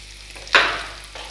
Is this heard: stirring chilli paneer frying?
yes